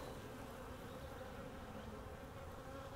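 Honey bees buzz steadily around an open hive during a spring inspection, a dense, continuous drone from many insects close by with no talk over it.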